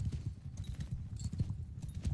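Horse hooves clip-clop in a steady, fast rhythm from a ridden horse in the medieval combat game Mount & Blade Bannerlord, low thuds repeating throughout at moderate loudness.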